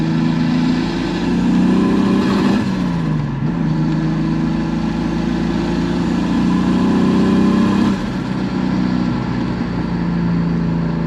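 A turbocharged BMW 2.5 engine in a Volvo 940 rumbles steadily up close, with a couple of surges in revs and a faint pop from the exhaust.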